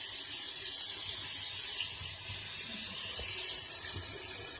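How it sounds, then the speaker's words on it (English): Hot tap water runs steadily into a sink, a continuous close hiss and splash that stays even and alone throughout, with no speech. "I will turn this over to the hot."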